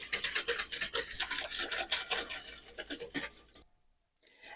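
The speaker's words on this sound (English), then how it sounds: "I'm just going to whisk it all together and let this sit for 10 minutes or so." A whisk rattles quickly against a bowl while mixing a yeast mixture for dinner rolls, a dense scraping rhythm for several seconds before stopping abruptly.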